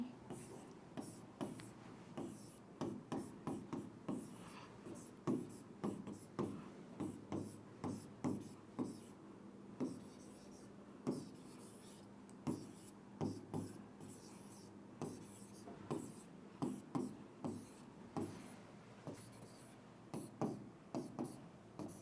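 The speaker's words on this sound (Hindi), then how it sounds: "चलो मैं नेक्स्ट पेज पे ही लिख लेती हूँ।" Pen writing on a notebook page during a reasoning class, a faint, steady run of soft scratchy strokes through the whole stretch with brief pauses between them, quiet and close.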